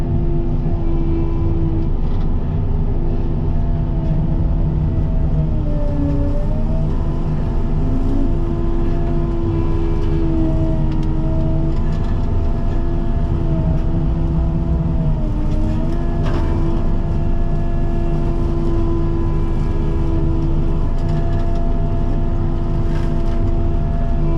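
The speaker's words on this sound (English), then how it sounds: "As always, I'm running my excavator full throttle." An excavator engine held at full throttle while clearing snake-infested overgrowth. It makes a loud, constant diesel drone close by, with slight dips in pitch under load and no talking.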